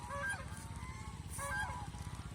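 Geese on a goose farm honk in two loud bursts of nasal calls, with a steady low rumble of background noise running beneath them.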